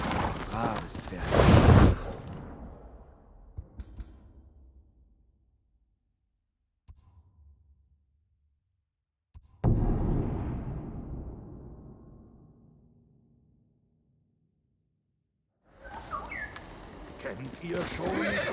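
A horse whinnies and its hooves clop in the samurai game Ghost of Tsushima, in loud bursts at the start and middle that fade away, then a busy final stretch, with voices present.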